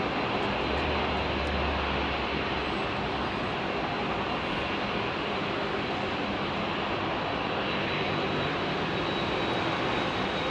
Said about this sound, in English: Another Air India Dreamliner.